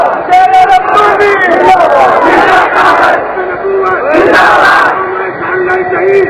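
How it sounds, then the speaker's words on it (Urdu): A large crowd at a Khatm-e-Nabuwwat religious gathering in Chiniot chants slogans in loud unison, with voices surging and falling in repeated waves. "میرا مقصد یہ سی کہ نعرے دی آواز تہاڈی ربوے تک نہیں گئی"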